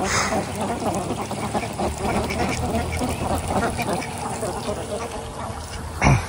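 Domestic ducks quack in a dense, continuous chorus as they eat small fish caught from a pond and tossed into the water. A sharper burst comes near the end, and voices may mix in with the flock.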